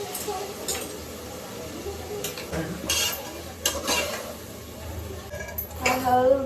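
Tomato masala paste frying in a pan for Sunday chicken biryani: a spoon stirs and scrapes with light clinks against the metal over a soft, steady sizzle, close and moderately loud.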